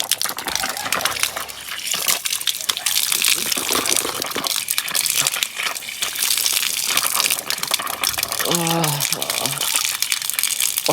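Water gushes from a village tap while someone washes their face, a steady splashing flow with crinkling handling noise and a brief voice near the end.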